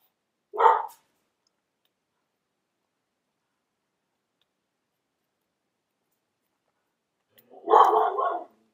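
A dog barks outdoors at a cat crossing the yard: one short bark near the start, then a longer burst of barking after several seconds of silence, moderately loud and fairly close.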